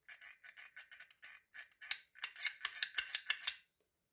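Action label maker feeding out label tape in a rapid series of short clicking, ratcheting bursts, roughly a dozen quick presses, close and fairly quiet, with no talking.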